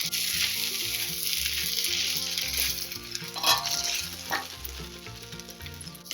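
Khandeshi-style wet pigeon pea thecha sizzles in a pan and is stirred, steady frying hiss with scraping spoon strokes and a few louder clatters near the middle, close and alone without talk.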